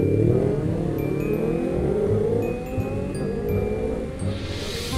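Four-cylinder motorcycle engine idling and revving nearby, a steady loud low rumble with rising and falling pitch that lasts the whole stretch, with no talk over it.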